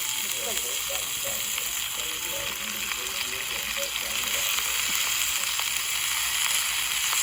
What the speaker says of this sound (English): Let it all sweat down, saute.